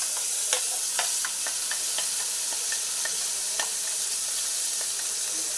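Ground fenugreek leaf chutney hits hot tempering oil in a pan with a soft, steady sizzle, broken by faint clicks and stirring taps.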